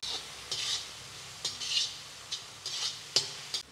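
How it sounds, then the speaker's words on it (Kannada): Capsicum and peas frying and being stirred in a pan, with repeated scraping strokes of a spoon against the pan over a low steady sizzle, close by and moderately quiet. "ಕ್ಯಾಪ್ಸಿಕಮ್, ಬಟಾಣಿ ಸ್ವಲ್ಪ ಫ್ರೈ ಆಗಬೇಕು"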